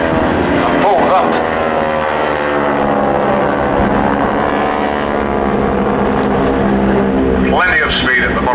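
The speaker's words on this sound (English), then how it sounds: "That smoke injected into the exhaust from tanks, and Gary steaming in and pulls up" Warbird aeroplane at an air show, its piston engine roaring loud and close as it dives in fast and pulls up, the pitch sweeping with Doppler shift, smoke injected into the exhaust, with commentary heard over the engine.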